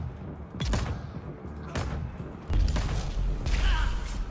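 Explosions and rapid turret fire from the video game Dune, with several sharp booming bursts at close range followed by sustained loud rumbling gunfire.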